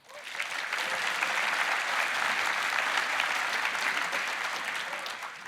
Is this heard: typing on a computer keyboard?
no